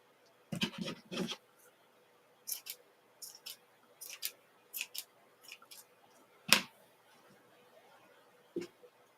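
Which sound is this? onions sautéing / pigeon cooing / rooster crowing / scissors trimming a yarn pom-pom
scissors trimming a yarn pom-pom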